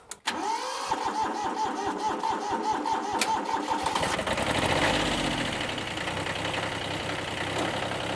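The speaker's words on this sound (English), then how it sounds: "Pull the compression release and fire." A Kubota B1502 tractor's diesel engine cranks with a rapid, regular chugging, then catches about four seconds in and settles into a loud, rough idle close by.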